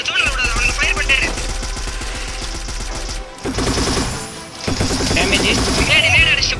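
Rapid automatic gunfire and crashes from an esports shooter video game match, loud and nearly continuous, with a brief lull in the middle before dense firing resumes, under excited voice commentary.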